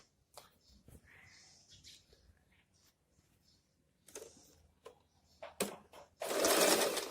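A sewing machine stitching pant fabric from the bottom upward: scattered soft clicks and handling taps lead into a louder, steady whir of the machine running near the end.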